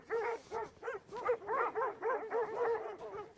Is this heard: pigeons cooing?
no